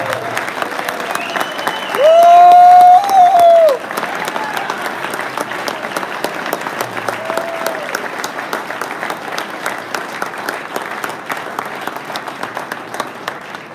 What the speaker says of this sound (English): Y'all give these guys a round of applause